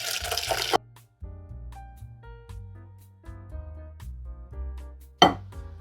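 Hot milk poured into an egg mixture for a South African milk tart while being stirred, a series of soft liquid pours and tonal clinks of a utensil against a bowl, close and fairly quiet, with a sharper splash near the end.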